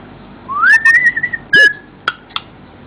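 Qik the parrot whistles alone and close: one long rising, held whistle, then a short sharp burst and two brief chirps, fairly loud against a quiet room.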